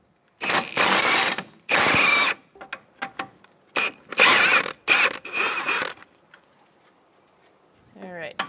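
A ratchet with a 19mm socket loosens strut bolts on a 2014-2018 Subaru Forester during a front wheel bearing and hub replacement, giving loud bursts of clicking cranks separated by short pauses, with brief speech at the end.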